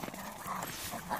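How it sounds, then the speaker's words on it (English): A Great Pyrenees or cocker spaniel growls playfully in a rolling, continuous rumble that rises and falls, close by on an Alberta homestead, with some faint background noise. "she always growled when she played."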